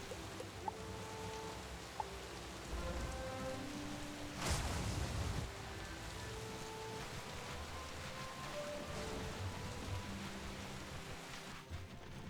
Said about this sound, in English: So I had to make it rain in Triton Avenue.